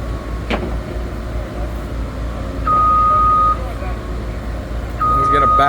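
A truck backing up at a railway derailment repair site sounds a reverse alarm, two long steady beeps over a low idling engine, with someone talking nearby.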